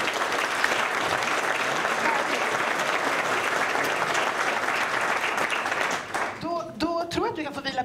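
An audience at a climate book launch gives a full, sustained round of applause for a speaker. The clapping runs steadily for about six seconds, then quickly thins out as a voice begins speaking.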